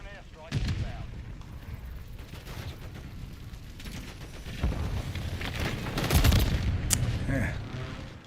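Precision airstrike explosions in Call of Duty Modern Warfare III, a run of booming blasts and rumbling impacts that swell louder toward the end, mixed with game sounds.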